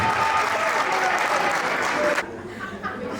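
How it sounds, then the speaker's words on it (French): A thunderous burst of audience applause at a youth eloquence contest final fills the room for about two seconds, stops abruptly, and gives way to quieter room sound with a voice beginning to speak. "est-ce que je peux avoir un tonnerre d'applaudissements s'il vous plaît"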